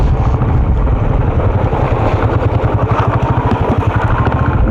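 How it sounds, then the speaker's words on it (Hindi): A motorbike approaches on a mountain road near Merak in Ladakh, its steady engine drone loud and continuous throughout with a rhythmic pulsing, no talk over it. "दिख रहा है एक और बाइकर आता हुआ।"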